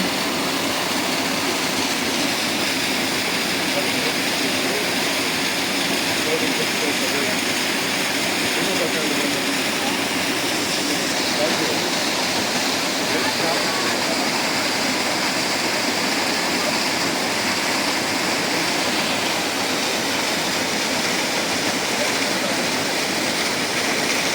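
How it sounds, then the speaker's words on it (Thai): Steady, broadband rush of a waterfall, loud and continuous throughout with no breaks, a dense wall of falling water close by. "ได้ยินเสียงของน้ำตกผ่อนคลายเลยค่ะ"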